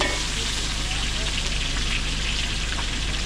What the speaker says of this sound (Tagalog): Yun, last na po sa ginigisa.